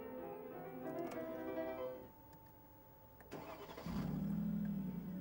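A Mercedes SLR McLaren roadster sits idling, then the engine cranks and catches, rising into a deeper, louder idle at the end. The sound is close but fairly quiet overall.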